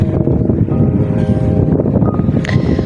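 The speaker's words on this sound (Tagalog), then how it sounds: "mabigat kasi malakas yung hangin" Strong wind roars and buffets the microphone while cycling on a bike, a loud, continuous low rumble with gusty swells throughout.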